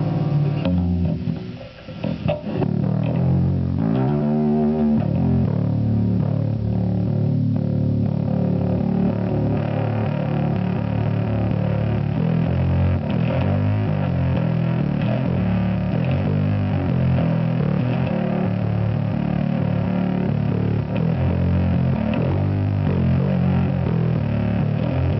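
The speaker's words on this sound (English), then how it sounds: "play with the fuzz and the blend" A bass guitar, an active Music Man StingRay, played through an OX fuzz pedal with the blend at about 9, thick distorted notes ringing continuously and close up, with no talking.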